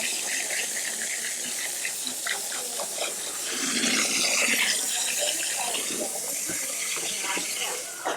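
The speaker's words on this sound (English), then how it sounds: "We just rinsed all the bleach out" Water running through hair at a salon sink as bleach is rinsed out, a steady close hiss and splash that swells briefly midway, with faint voices behind.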